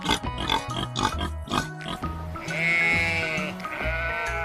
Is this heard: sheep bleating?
yes